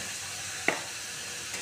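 Masala spices fry in oil in a pan, giving a faint, steady sizzle with one short crackle partway through. No voices are heard.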